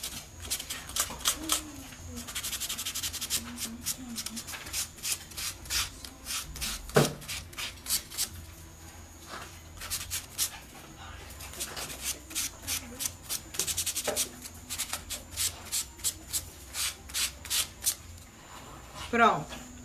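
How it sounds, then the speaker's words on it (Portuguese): A vintage wooden drawer unit is sanded by hand in repeated rasping strokes. The rubbing comes in rhythmic bursts with short pauses, close to the listener, and a voice speaks intermittently beneath it. "Vou dar uma lixadinha aqui."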